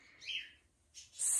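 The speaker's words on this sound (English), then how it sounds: "my birds never take a break with the singing. you might hear them in the next room whistling and chirping away" Pet birds in the next room chirp and whistle in a few short, bright calls separated by a brief pause, fairly clear, with no voices.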